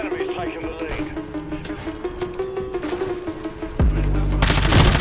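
Rapid automatic gunfire rattles in the Call of Duty Warzone video game, with bursts of shots and a heavier, louder volley near the end, while a player exclaims over the action.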